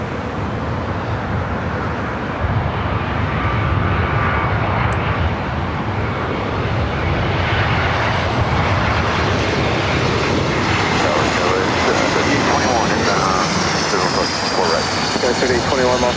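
An American Airlines Airbus A321 jet, in from Dallas–Fort Worth, on approach to land at LAX, heard as a steady, loud broadband engine roar that swells and brightens over its length, with faint talk underneath.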